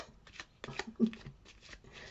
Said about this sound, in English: See, I can shuffle well with these little cards.